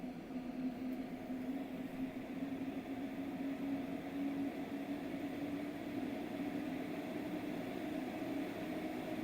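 A VENTS A21 supply-exhaust ventilation unit with a heat recuperator and electric heater runs with EC motors spinning, giving a steady low whirring hum and airy noise, faint and unbroken throughout.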